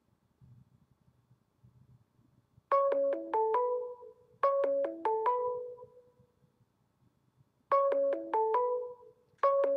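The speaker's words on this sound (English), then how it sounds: "My phone is ringing." Mobile phone ringing with a bright, repeating melodic ringtone in three clear bursts after a quiet start, fairly close and alone without talk.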